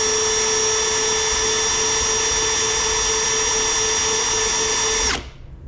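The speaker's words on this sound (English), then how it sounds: "I just do one of these numbers on it and spin the drill." A power drill spins a Scotch-Brite pad against a part during dirt bike prep for a 2025 Triumph TF 250-X. It makes a loud, steady high whine that holds for about five seconds, then cuts off and winds down abruptly.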